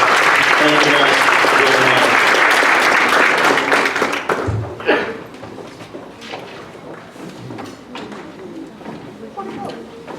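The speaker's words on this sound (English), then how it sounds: "Let's give him a round of applause." Audience applause at a student leadership awards ceremony for an award recipient, loud and dense at first, then fading after about four seconds into scattered claps, background chatter and bird coos.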